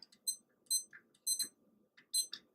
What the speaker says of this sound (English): I'm going to start our timer again.